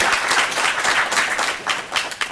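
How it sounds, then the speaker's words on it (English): An audience at a city council candidate forum applauds, a steady wash of many hands clapping at moderate distance that thins toward the end. "join me in an applause for these candidates"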